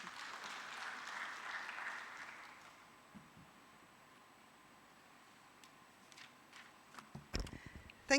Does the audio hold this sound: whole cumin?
no